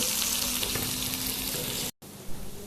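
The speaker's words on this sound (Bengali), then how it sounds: "এই তো আমার চালটা কি সুন্দর ভাজা হয়ে গেছে" Rice sizzles and crackles loudly in a hot pan with fried onions, a dense steady hiss that cuts out abruptly, then resumes more faintly with a brief clatter.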